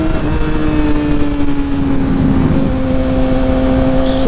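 Yamaha R6 motorcycle riding, its engine a steady, continuous drone with a sustained tonal hum held close and loud throughout, no voices.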